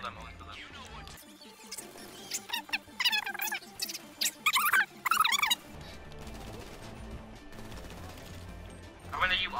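Gunfire in a GTA 5 heist: sharp bursts of shots clustered in the middle, loud and near, over a busy game soundtrack with people talking throughout.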